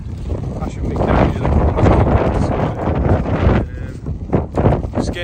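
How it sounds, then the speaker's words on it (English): Strong wind roaring across an open farm field, buffeting the microphone loudly and continuously while someone talks over it. "Really windy, I'm sorry."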